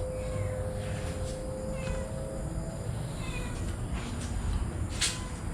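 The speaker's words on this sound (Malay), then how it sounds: "Ada kucing." A cat meows a few times, faint and thin against a loud, steady background hum and rumble at an old inn at night.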